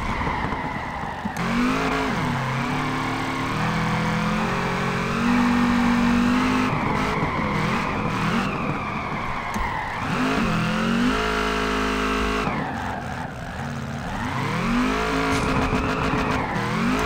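A car drifting in Peak Angle Drift Online howls with a revving engine and long sliding tire squeals, pitch rising and falling through repeated bursts of acceleration and skids, loud and continuous with no talking.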